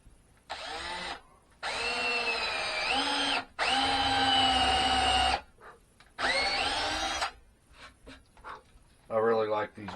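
A power drill bores into wood for a Langstroth long beehive build, running in several loud bursts of a few seconds each with a rising whine, separated by short pauses.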